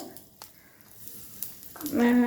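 Half a teaspoon of mustard seeds hitting hot oil on low flame, a quiet hiss that swells into a loud crackling sizzle at the end.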